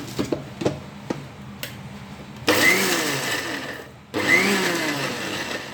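A mixer grinder whirs loudly in two bursts of grinding spice paste, stopping briefly between them, after a few light clicks and taps at the start.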